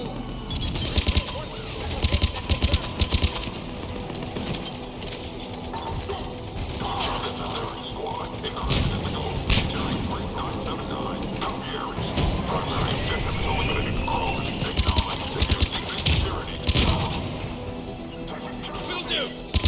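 Enemy gunfire in the video game Mass Effect Legendary Edition, on Pacific Caltech 4: repeated sharp shots and bursts scattered through a busy, clattering combat mix, with voices talking over it.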